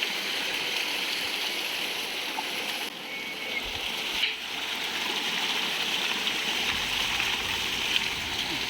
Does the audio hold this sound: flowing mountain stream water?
yes